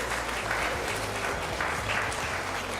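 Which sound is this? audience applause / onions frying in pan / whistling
audience applause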